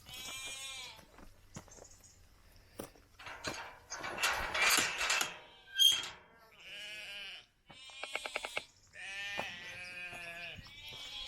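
Sheep on a smallholding bleat repeatedly in wavering calls, some near and some farther off, mixed with clanking and rattling noises outdoors.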